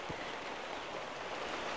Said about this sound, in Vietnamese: nó lại mưa to xuống rồi.